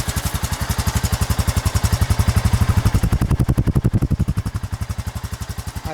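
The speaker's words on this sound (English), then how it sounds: "All the noise is motor noise now. I like it, it's a lot quieter." A Honda Rancher ATV engine runs near and steady, fitted with a quiet flea-market muffler, its even, rapid exhaust pulses thumping alone throughout with a faint mechanical clatter and slight dips in speed toward the end.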